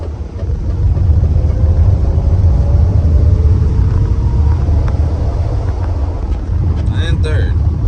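A shorty van with a three-speed column shift pulls away in second gear, its engine giving a steady, loud low rumble with wind noise over it throughout.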